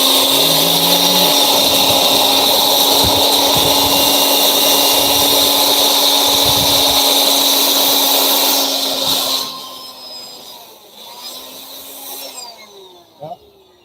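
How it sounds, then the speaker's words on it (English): A blower runs at full power with a loud, steady high-pitched whine and roar for about nine seconds, then cuts off and spins down, leaving quieter background sounds. "Let's give everybody a tune-up just to let them know the power of the blower."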